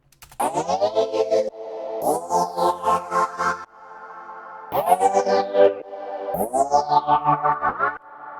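Future bass synth sketch built in FL Studio 12: four bursts of bright, detuned chord stabs, each opening with a sweeping rise, pulsing in a choppy rhythm with effects and short gaps between phrases, loud and alone.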